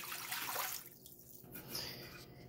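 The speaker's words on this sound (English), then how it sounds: "For the rice, you want to put 4 cups of water." Water pouring into a pot for cooking rice, a steady splashing rush that thins toward the end, close and moderately loud with no talk.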